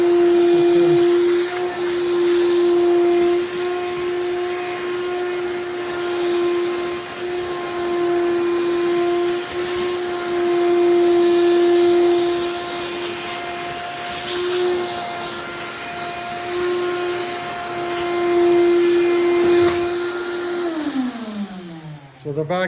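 A vacuum cleaner runs steadily with a strong whining tone while sucking up loose soil, with the pitch shifting slightly as debris passes and dropping as the motor winds down at the end.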